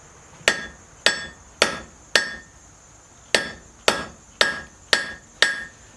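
A hammer strikes hot steel resting on a blacksmith's cutoff tool, nine sharp ringing metallic blows in a steady rhythm with a short pause midway, close and loud with no talking.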